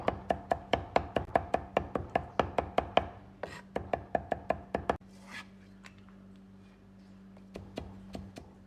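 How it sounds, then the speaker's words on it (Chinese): Kitchen knife chopping two crushed garlic cloves into paste on a board, a rapid, steady run of sharp close knocks that pauses briefly, resumes, then trails off into a few scattered taps. "大蒜子2颗，先拍破，然后再剁成蒜泥"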